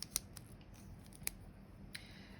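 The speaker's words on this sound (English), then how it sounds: "We need some scissors." Scissors handled for a crochet earring project, giving a few quiet metallic clicks and snips at irregular intervals against a faint background hiss.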